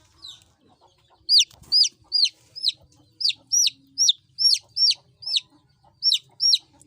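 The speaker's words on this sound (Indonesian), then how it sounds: "kita selamatkan ayam yang kejebak itu, suaranya dari tadi, kasihan ya" A trapped chick, stuck up high and unable to jump down, peeps in a steady run of about a dozen sharp, high chirps, close and clear with no talk over them.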